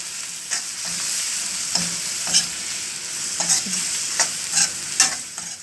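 Bitter gourd with turmeric, red chilli and coriander powder is stirred in a hot pan: a soft continuous sizzle broken by repeated spatula scrapes and clinks, fairly close and clear, with no voices.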